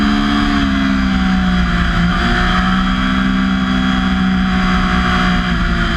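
Motorcycle engine held under steadily building throttle through a long corner while testing Continental Sport Attack 3 tires, a loud continuous drone with rising pitch and heavy wind rush.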